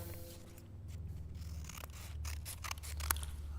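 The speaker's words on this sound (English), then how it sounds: "I've got some scissors. Thank you, Catherine. A little bit of snip, snip there." Scissors snip a few times up close, making quiet, crisp cuts over a steady low room hum.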